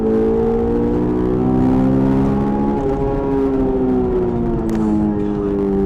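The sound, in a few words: Honda S2000 engine revving high near VTEC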